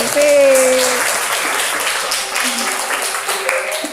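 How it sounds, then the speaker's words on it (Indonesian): A classroom of students applauds in a steady broadband patter, with a teacher's voice talking over the clapping throughout. "Kita kasih tepuk tangan."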